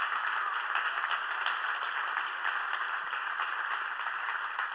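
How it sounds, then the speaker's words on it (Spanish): A church congregation at a Spanish-language service applauds women heads of household, a dense, even wash of clapping held for several seconds at moderate volume, without voices over it. "Yo quiero un aplauso para estas mujeres"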